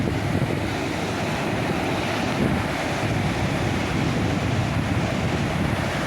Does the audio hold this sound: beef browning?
no